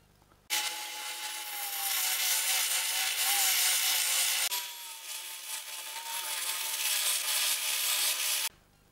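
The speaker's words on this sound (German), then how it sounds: "ich muss nämlich damit noch an den Spindelschleifer, um diese Rundung hier dran zu machen" Spindle sander shaping rounded edges on small wooden parts for a hinge, a steady loud whirring grind with a brief dip midway as the workpiece shifts, starting and stopping abruptly.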